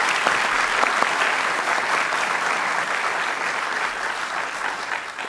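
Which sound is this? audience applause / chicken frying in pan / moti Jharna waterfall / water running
audience applause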